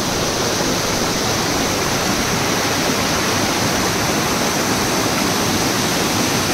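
Kusrampalli waterfall near the Telangana–Karnataka border pours in a loud, dense, unbroken roar that holds steady throughout, with no voices over it.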